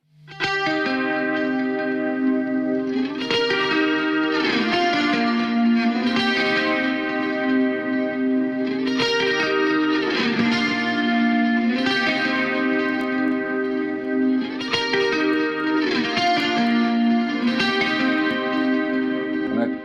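Heavily processed, compressed electric guitar chords with chorus, distortion and echo, heavy metal tone, strummed in a steady repeating pattern that stays loud and dense throughout.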